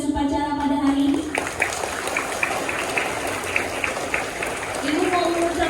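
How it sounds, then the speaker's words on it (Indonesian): Schoolchildren at an elementary school flag ceremony in Pontianak give the student ceremony officers a round of brisk, dense clapping. A voice speaks at the beginning and again as the applause dies away. "kita beri tepuk tangan dulu untuk petugas upacara pada hari ini"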